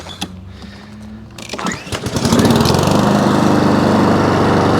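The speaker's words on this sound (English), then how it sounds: "Husqvarna HU700F. It's got a Honda motor on it." A Husqvarna HU700F walk-behind lawn mower with a Honda engine cranks and fires on the first pull, then settles into a loud, steady running drone close by, with no talking.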